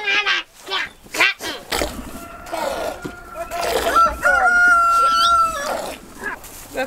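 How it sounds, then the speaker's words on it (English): A loose chicken on a farm where baby goats are being trained to an electric fence gives a run of fairly loud, clear calls in the middle of the clip, with people talking before them and other farm noise around. "there's a chicken out"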